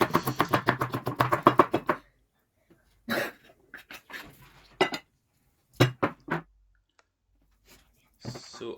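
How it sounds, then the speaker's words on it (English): Carrots chopped on a board for Tajik plov: a fast run of close, rhythmic knife strikes, then scattered single chops, scrapes and clinks with pauses between. "the same amount of the carrots needs to be cut"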